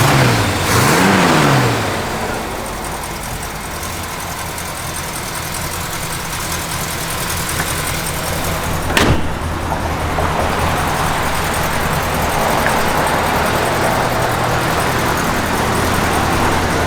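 A 1966 Pontiac LeMans convertible engine revs briefly at the start, then settles into a steady, fairly loud idle that runs on evenly, with a single sharp knock partway through.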